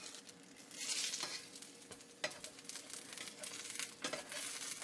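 Flatbread fries in cooking oil drizzled around its edge in a pan over medium-low heat, giving a soft, steady sizzle with scattered crackles and pops and no voices.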